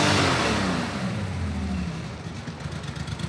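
A thirty-year-old Porsche engine runs roughly, its loud revving falling away into an uneven, lumpy idle with a slightly irregular low rumble, heard close with no talking.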